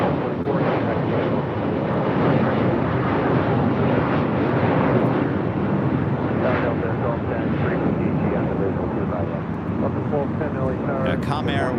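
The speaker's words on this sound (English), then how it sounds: "This is Delta Airlines A350. Arriving on 25 left." A Delta Airlines Airbus A350 arriving from Sydney on runway 25 left at LAX gives a loud, continuous jet rumble and roar that fills the whole stretch, with wind buffeting and a voice talking over it.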